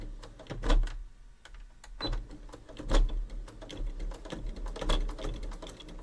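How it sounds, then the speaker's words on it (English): A sewing machine runs a short back stitch while making Halloween fabric bunting, giving irregular bursts of clattering needle strokes with quiet pauses between them, close up. "Do a little back stitch."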